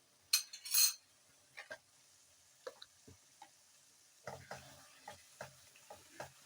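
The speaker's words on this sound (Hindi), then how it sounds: "इसको अच्छी तरह कड़क करके बुनाई करेंगे।" Masala with oil and garam masala frying in a karahi for restaurant-style chicken karahi. A soft sizzle sits under scattered spoon scrapes and metallic clinks of stirring, fairly quiet and irregular.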